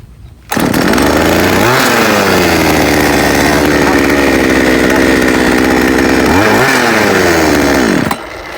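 A small chainsaw engine roars loudly at close range, revving up and down a few times before settling back to idle.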